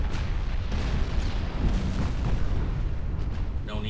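Naval guns firing in the warship game Ultimate Admiral Dreadnoughts, heard as a dense, continuous rumble of distant heavy gunfire and booms, with no talk.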